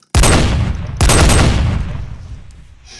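Sniper rifle fire in a zombie survival video game: two loud, close, booming shots about a second apart, each with a long decaying echo.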